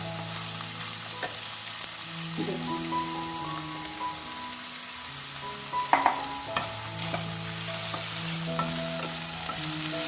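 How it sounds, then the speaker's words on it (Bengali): Chopped onions and four green chillies fry in a spoonful of ghee, a steady close sizzle with intermittent stirring scrapes and a couple of sharp utensil clinks, no voices. "আমি এক চামচ বড় করে ঘি দিয়েছি তাতে পেঁয়াজটা বেড়ে নিচ্ছি"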